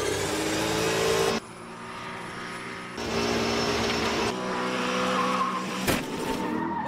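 A car slides through skids and tyre squeal on a test track while the driver tries to swing its rear toward a row of watermelons. Loud, close screeching comes in bursts with shifts in engine note, and no one speaks.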